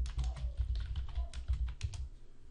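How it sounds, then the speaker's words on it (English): Typing on a computer keyboard: a close, quick patter of key clicks in short bursts with brief pauses, no voices. "if i could type"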